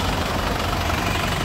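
A black 2019 Isuzu MU-X turbo diesel idles at the rear, heard right by the exhaust pipe as a steady, loud, low rumbling drone with no talk over it.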